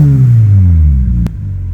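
A car engine on CIS-E fuel injection with an ignition rev limiter revs hard, then the pitch drops as it is cut at 7,000 RPM. The close, loud roar falls away and is followed by a sharp click.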